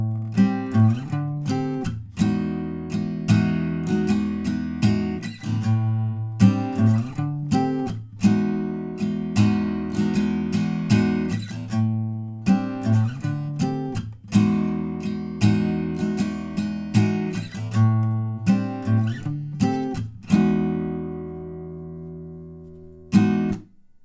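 Strummed guitar chords of the chorus of a song, a steady rhythmic pattern of repeated strums and chord changes lasting over twenty seconds, ending with a ringing chord and one final strike. Played solo and close, without voices.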